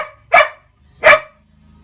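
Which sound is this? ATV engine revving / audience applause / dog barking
dog barking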